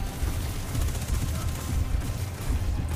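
Rapid bursts of video-game gunfire aimed at a giant black orb during a boss fight, a dense, steady rattle of shots through the whole stretch with faint voices mixed underneath.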